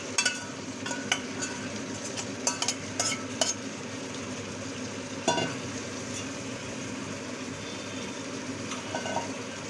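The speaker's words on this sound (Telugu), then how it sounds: "ఇప్పుడు చికెన్ వేసాను వేసి బాగా కలపాలి" Chicken pieces being stirred into a cooked masala in a pan, with a steady low sizzle throughout and intermittent sharp scrapes and clinks of a spoon against the pan, close and moderately loud.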